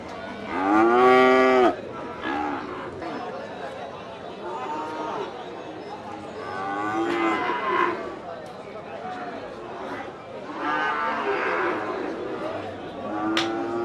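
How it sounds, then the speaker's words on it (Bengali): Cattle low several times at the Satmail livestock market in southern Bengal, with a strong moo at the start and fainter calls later, all mixed with steady nearby talking and crowd chatter. "তার ভিতরে একটা গরু দেখুন"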